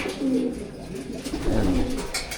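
Stock pigeons in a breeder's loft cooing close by, soft throaty rolling coos overlapping in a short burst.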